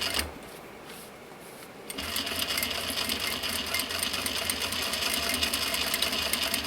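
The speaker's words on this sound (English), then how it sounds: "It's going to get pretty thick in some places. I'm using a size 16 needle." A sewing machine runs in a fast, even, loud whir as it topstitches along the edge of thick recycled denim with a size 16 needle, starting after a quieter pause and continuing without a break.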